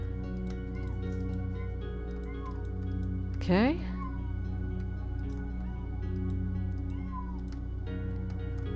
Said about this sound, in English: And Kitty is making noises.